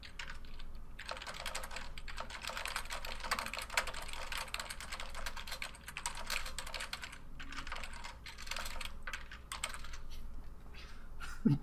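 Rapid clattering of computer keyboard typing during an online card game duel, continuous bursts of keystrokes with brief pauses, close and fairly quiet, no talk.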